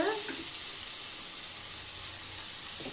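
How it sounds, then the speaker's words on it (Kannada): Methi mutagi, fenugreek-leaf dough dumplings in the North Karnataka style, frying in hot oil with a steady, close broadband sizzle and a few faint bubbling crackles, no talk. "ಇದೆಲ್ಲ ಫ್ರೈ ಮಾಡ್ಕೋಬೇಕ್ರಿ."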